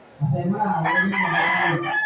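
A chicken with an injured wrist calls out steadily for about two seconds, close and clear, while it is handled and a cloth piece with a cut hole is slipped over its foot.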